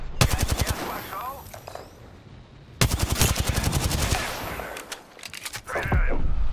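Automatic weapon fire in Apex Legends rattles out in two loud rapid bursts, the second longer, with single shots between and a player's voice talking over parts of it.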